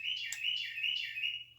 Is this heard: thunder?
no